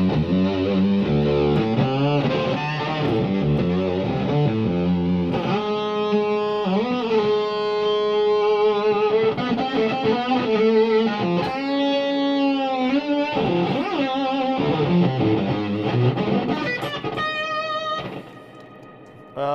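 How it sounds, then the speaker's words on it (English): A guitar through fuzz pedals gives a heavily distorted, buzzy tone, playing a wandering line of sustained notes and bends, harsh and saturated, fading slightly near the end. "These are more pedals that make bad noises,"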